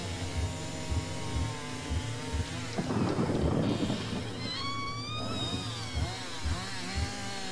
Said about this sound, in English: It's got a fucking chainsaw.